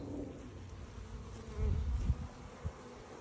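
A swarm of honeybees buzzing and flying around outdoors, a faint steady hum with a few louder passes of individual bees close by, alone without talk.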